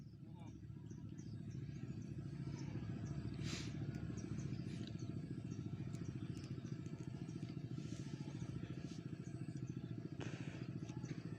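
A diesel engine driving a water pump beside a water spinach plot runs as a steady, loud, low chugging rumble throughout, with faint clatter above it.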